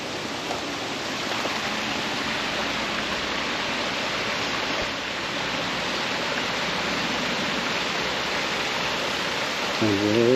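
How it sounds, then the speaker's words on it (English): A waterfall at the big pond of Bundaberg Botanic Gardens, heard from a short way off as a steady broad rushing wash that holds even throughout, with no clear talk. "We're a bit away from the big pond waterfall."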